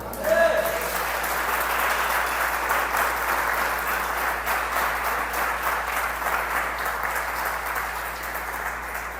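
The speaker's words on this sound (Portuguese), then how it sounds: "dá um aplauso a Jesus" Church congregation applauding Jesus during a sermon, a dense, sustained roar of many hands clapping at once, steady and full throughout with no pause.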